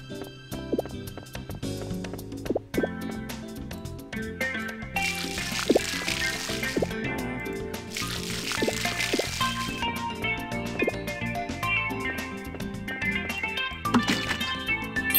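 Plants being watered in the farming game Harvest Moon Light of Hope, repeated wet splashing and dripping effects over gentle game music, steady and moderately loud throughout.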